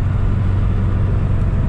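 A car launches from a launch control start during a 0-100 acceleration test comparing short and long gearing with flat shifting, giving a loud, close, continuous engine and road roar that holds steady throughout.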